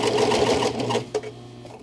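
A serger sewing machine whirs steadily as it trims and encloses a fabric edge in thread, running fast and close for about a second before stopping with a brief mechanical clunk.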